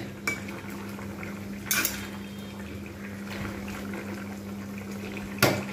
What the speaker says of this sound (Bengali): আর একটু ঝোলটা শুকিয়ে যাবে, একটু নেড়ে চেড়ে নেব এবারে